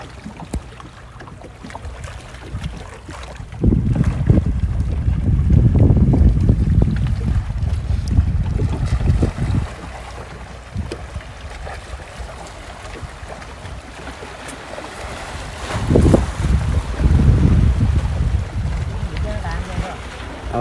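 Strong wind buffeting the microphone on a small boat out on the open sea off Ca Mau, Vietnam, with heavy rumbling gusts rising and falling in two long surges over the water.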